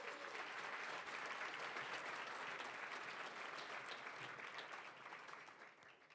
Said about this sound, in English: So how about a round of applause for Helen?